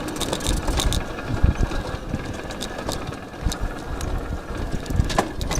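An Izh Planeta 5 motorcycle engine runs steadily while shifting gears, with rising and falling revs and a rough, rattling drone, close by, with no talk.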